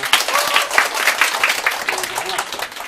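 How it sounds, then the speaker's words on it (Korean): An audience at an exam-prep lecture claps to welcome a teacher who is coming up to speak. The applause is close and lively, with individual claps standing out throughout, and a few faint voices run beneath it. "박수로 환영하겠습니다."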